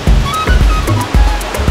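Waterfall in Bali roaring continuously nearby, a dense, loud rush of falling water with low rumbling surges and no voices.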